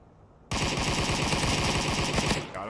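Sustained rapid automatic gunfire breaks out in a firefight in the VR shooter Onward, loud and close, with dense overlapping bursts of shots continuing steadily for about two seconds.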